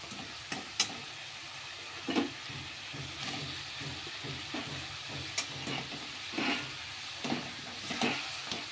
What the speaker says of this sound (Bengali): মশলা কষছে, এবার এর মধ্যে মাথাগুলো দিয়ে দিলাম